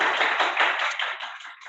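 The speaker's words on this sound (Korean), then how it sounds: "우리 안준영 센터장님께 다시 한번 큰 박수 부탁드립니다" Sustained applause from an audience at the close of an evening company event, with dense overlapping claps that stay steady and loud across the moment before tapering slightly at the end.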